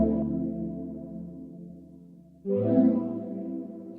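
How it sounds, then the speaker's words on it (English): A sustained, swirling synth pad with a sweeping phaser effect on its reverb, swelling louder halfway through with no voices. "We'll add a touch of phaser to it."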